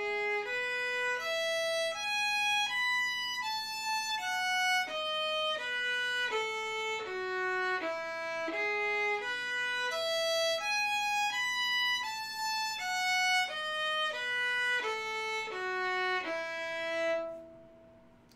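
A violin plays Kreutzer Etude No. 8 with détaché bowing, a steady run of separate, evenly bowed notes rising and falling in clear pitch steps, close and solo with a faint background hum.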